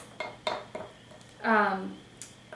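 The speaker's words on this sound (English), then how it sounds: "We're just wanting to work all of that powder and oil together into a paste." Powder and coconut oil being worked together into a paste in a bowl, heard as a few sharp utensil clinks against the bowl followed by a longer scraping stir, close and fairly quiet.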